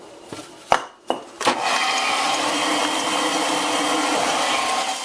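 A sander switches on and runs steadily while shaping a turned wooden mushroom, with a few sharp knocks at the start before a continuous broadband whir that holds for several seconds.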